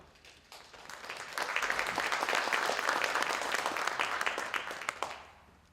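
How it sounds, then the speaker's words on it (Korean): Applause from attendees at an international academic conference marking the 120th anniversary of the Donghak Peasant Revolution, rising quickly into a dense burst of clapping for a few seconds before tapering off. "큰 박수 부탁드립니다."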